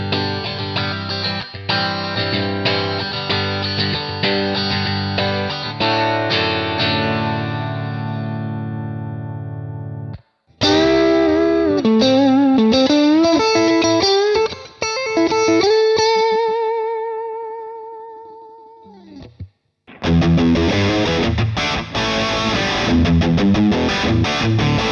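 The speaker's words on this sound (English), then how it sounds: "Speaker simulation and things can sound like this through it." Electric guitar goes through a Mooer Radar speaker simulator pedal at line level. Loud, distorted chords and phrases ring out in three bursts, separated by short silences, with notes sustaining and fading before each new passage.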